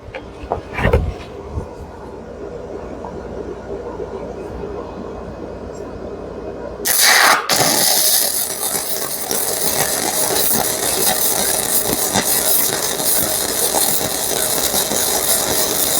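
Sefaspe Mig135E flux-core welder laying a bead, a steady loud crackling sizzle that starts abruptly partway through and runs continuously, close by, after a few quiet shop noises.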